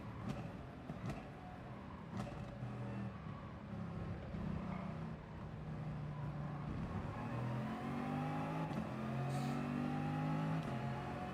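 Race car engine in the Gran Turismo video game at Monza in a four-lap race, a steady mid-pitched drone that climbs as the car accelerates, with a few faint clicks over it.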